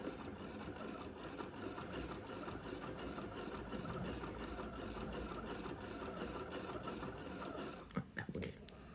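A freshly oiled sewing machine running steadily with its bobbin winder engaged, a faint continuous mechanical whir and hum nearby, with a small knock near the end.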